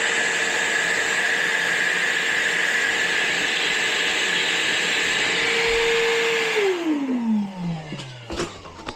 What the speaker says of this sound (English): we could vacuum the rest of it off.